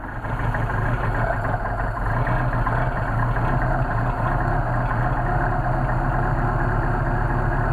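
A Mercedes 190SL engine fitted with Solex carburetors runs at a steady high cold-start idle, giving a close, continuous low rumble with an even throb and no voices.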